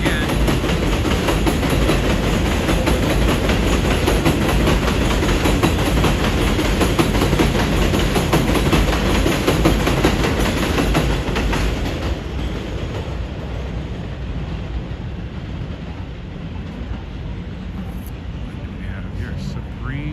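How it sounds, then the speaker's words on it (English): A train rumbles past up close on an elevated line in New York City, with steady clattering and roar, the noise easing off partway as it moves away. "the train is back again"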